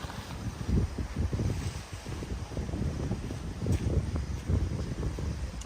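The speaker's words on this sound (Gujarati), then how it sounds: "પવન પણ જો ઘણો બધો છે" Strong wind buffeting the microphone at night on a farm, continuous gusty low rumble rising and falling for several seconds, with no speech.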